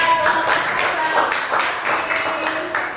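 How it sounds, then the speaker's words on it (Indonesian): Classroom applause from a group of students fills the space with steady, dense clapping that stays fairly loud throughout, with a murmur of voices mixed in. "Tepuk tangan buat"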